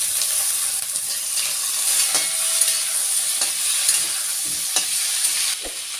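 Potatoes and drumsticks fry in hot oil with onion, bay leaf and five-spice seeds, giving a steady, loud, close sizzle. A few soft stirring clicks sound on top.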